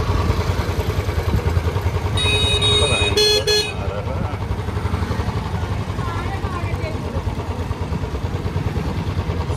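Steady engine drone of a Royal Enfield Bullet motorcycle cruising after a gear change, with passing traffic and a brief horn toot, under continuous road and wind noise.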